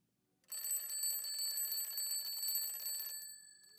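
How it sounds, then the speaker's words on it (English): An alarm clock rings loud and steady for about two and a half seconds, a bright electronic tone starting abruptly and cutting off, alone in an otherwise quiet room. "I awoke to my alarm clock"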